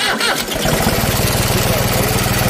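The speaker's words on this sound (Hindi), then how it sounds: "स्टार्ट हो गया सीधा डायरेक्ट," A farm machine's engine fires straight up after a repair, catching from a brief cranking into a steady, loud, close, rapid idling chug that runs on without a break.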